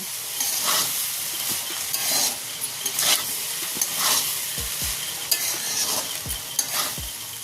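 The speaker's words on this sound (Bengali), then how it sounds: "এই সবগুলো ভাতের মধ্যে দিয়ে দিলাম আবারও ভালো করে নাড়াচাড়া করে মিশিয়ে নেব" Fried rice mixed with fried egg, meat and shrimp is stirred in a hot pan, giving a close, steady sizzle with scraping strokes and several sharp spatula knocks toward the end.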